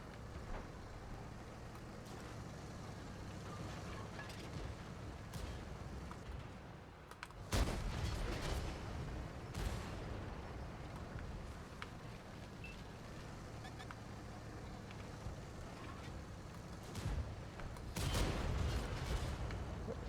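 Shells striking and ricocheting off tank armor in World of Tanks, a sharp loud impact near 7.5 seconds and another around 18 seconds over constant engine rumble and battle noise, with a voice talking throughout.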